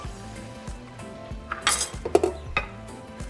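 Metal pot clatter and a lid lifted off a pot of simmering ranchero sauce, with close, sharp clinks and knocks over faint kitchen background.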